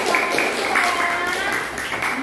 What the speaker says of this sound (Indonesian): tepuk tangan untuk kelompok globalisasi